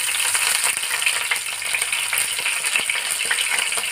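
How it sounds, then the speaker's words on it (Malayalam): Curry leaves sizzle as they drop into hot oil already used for frying garlic and dried red chillies, a steady dense crackle with close spitting pops that continues without a break, alone and without talk. "വെളുത്തുള്ളിയും വറ്റൽമുളകും വറുത്ത് കോരിയ ശേഷം നമുക്ക് ഈ കറിവേപ്പിലേനെയും കൂടി ഇട്ട് കൊടുക്കാം"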